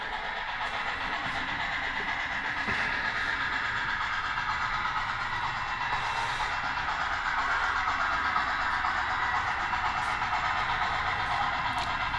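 A model train runs on a dog-bone loop layout, giving a steady, continuous whirring rumble at an even level for the whole stretch, with no talking.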